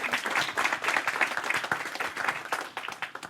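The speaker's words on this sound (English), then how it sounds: "A round of applause for Sandbox." An audience at an EdTech innovation forum applauds for Sandbox, a dense, continuous patter of many hands clapping close and loud throughout.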